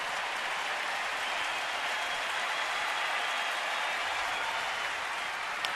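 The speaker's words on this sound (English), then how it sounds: "Crowd starting to make some anticipation noise here." Baseball fans in a packed ballpark keep up a steady, broad roar of cheering and clapping as they anticipate the next pitch, with the din unbroken and fairly distant.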